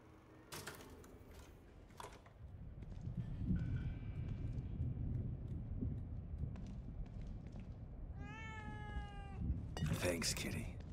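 A cat meows in the horror video game The Evil Within 2, a short rising-falling call near the end, over low ambient rumble, game clicks and a brief voice.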